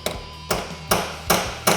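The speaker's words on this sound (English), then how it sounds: "we're going to take a long punch and a hammer and knock out the roll pin" Hammer striking a long punch to drive out the roll pin joining a Polaris RZR 1000 prop shaft to the differential pinion shaft, five sharp metallic knocks at a steady rhythm, close and distinct.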